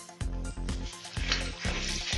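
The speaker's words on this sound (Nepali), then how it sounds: "राम्ररी फ्राई भइसकेपछि म्यास गरिएको आलुलाई राखिदिने" Mashed potato frying and sizzling in a pan for a Nepali-style aloo paratha filling, with repeated stirring strokes making a rhythmic scraping sizzle, close and steady.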